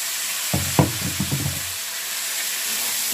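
Green chili, grated ginger and peas drop into hot oil with a steady sizzle, a few soft knocks and stirs of a spoon against the pan early on, the frying hiss continuing alone.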